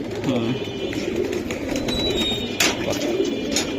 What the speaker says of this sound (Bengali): এটা বেজি কবুতর ভাই, একেবারে র বেজি কবুতর